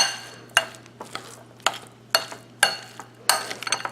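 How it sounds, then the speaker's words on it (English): Lime and chopped cilantro being stirred together in a bowl, giving a few irregular light scraping and clinking strokes of a utensil against the bowl, close and quiet, with no talking. "And I'm going to just mix it all together"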